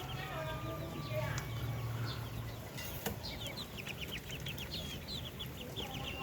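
Darag native chickens and their chicks on a Filipino farm: a steady stream of high, bright chick peeps overlaps with soft adult clucking, close by and continuous, with a low voice faintly murmuring underneath.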